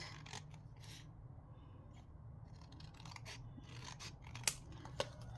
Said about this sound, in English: so let's cut this now because it's nice and sturdy, so we can cut it like that.